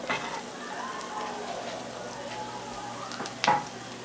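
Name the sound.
chicken sizzling in a frying pan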